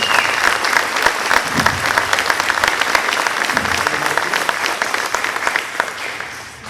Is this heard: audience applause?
yes